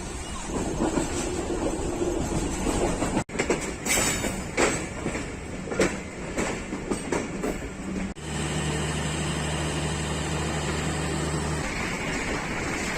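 Tezgam passenger train of Pakistan Railways running on its tracks, a steady loud rumble and rattle of carriages with rhythmic clatter, shifting midway to a lower droning hum.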